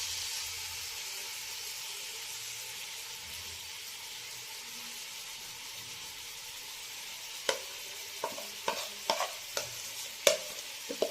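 Chicken cooks in hot oil in a kadhai over a medium-low flame with a soft, steady sizzle, followed by a few sharp scrapes and clinks of a utensil toward the end.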